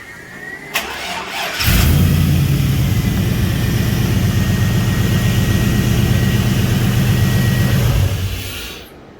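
An OBS Ford truck with a misfire cranks and fires up, settling into a loud, steady, slightly uneven idle that runs for several seconds close by before cutting off.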